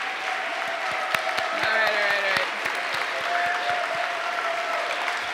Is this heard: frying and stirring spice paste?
no